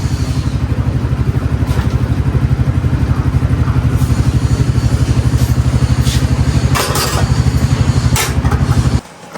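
A motorcycle ridden on the way to a market in Kashmir on a hot day, its engine thumping in a steady, close, loud rhythm throughout before cutting off abruptly near the end.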